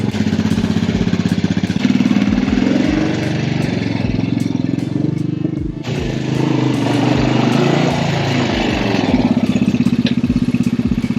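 The engine of a repaired dirt bike runs on a short test ride. It makes a loud, close, steady single-cylinder putter that rises and falls with the throttle and carries a brief dip midway.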